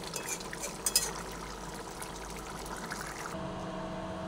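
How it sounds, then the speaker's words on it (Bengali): Cooked capsicum chicken sliding and pouring from a pan into a bowl, a soft wet trickle with a couple of sharp metallic clinks near the start, close and fairly quiet, with no voice. "এরপরে একটা পাত্রে মাংসটা আমি ঢেলে নিচ্ছি"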